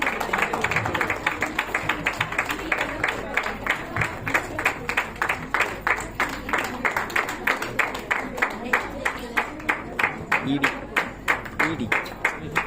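An audience at the Accsys India core leaders recognition meet-up claps in a steady, even rhythm for a long stretch. The beats are loud and close, with voices talking over the clapping.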